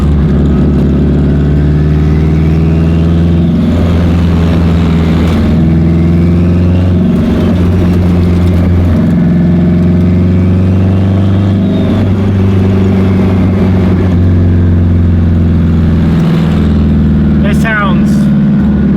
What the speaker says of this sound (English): Just listen to the turbo spool.